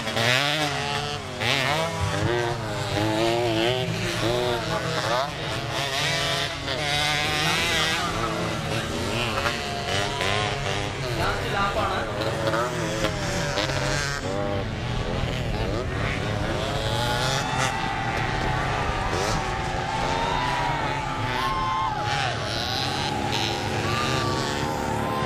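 Motocross bikes in a beginners' race roar through the final lap, engines revving and shifting in a continuous loud whine, with a commentator's voice layered over the din.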